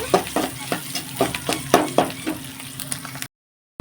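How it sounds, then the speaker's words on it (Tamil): Garlic frying with onions in a pan for fish curry, a close sizzle broken by regular spatula strokes scraping the pan, then cutting off abruptly into silence. "பூண்டு ஆட் பண்ண போகிறோம் ஆட் பண்ணி ரெண்டு நிமிஷம் வணக்கிட்டுருங்க"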